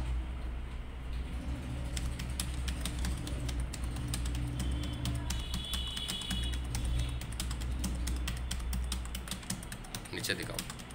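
Someone types a Hindi typing exercise on a computer keyboard, producing a rapid, steady stream of close key clicks that lasts throughout, over a low background hum.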